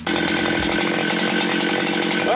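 A gas chainsaw set up for Alaskan milling of logs roars steadily at close range, its engine holding a loud, continuous high idle throughout with a brief rev at the end.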